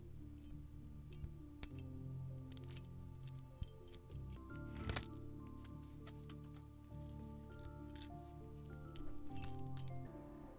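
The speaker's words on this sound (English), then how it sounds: "they make like this very satisfying little tinkly noise when you play with them" Small metal goblin miniatures are handled close up and clink against each other in quiet, scattered tinkly taps and light scraping, with no talking.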